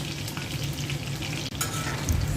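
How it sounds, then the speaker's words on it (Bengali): Garlic and whole dried chilies frying in oil for a homemade mixed vegetable pickle, a close, continuous hiss and crackle with stirring scrapes and one brief dip in the sizzle. "আমি রসুনটা তেলের মধ্যে দিয়ে দিচ্ছি। দিয়ে দিচ্ছি আস্ত কয়েকটা শুকনো মরিচ।"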